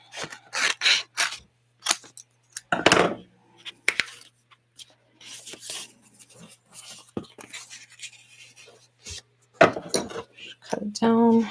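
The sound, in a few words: cutting craft foam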